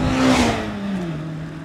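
A Mazda MX-5 Miata with a 2-liter naturally aspirated inline-4 engine revs up and then falls away in pitch, loud and close, with a strong intake or exhaust note and no talking.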